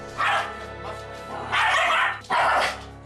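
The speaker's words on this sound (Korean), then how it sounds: "방에 들어오려는 어머니를 향해 짖고 달려들던" A pet dog barks and lunges at a woman entering a room, giving three sharp, loud bursts of barking close by, separated by brief pauses.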